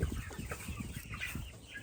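A flock of chickens clucks in quick overlapping bursts close by on a morning farm outing, a busy continuous chatter of hens without any talking.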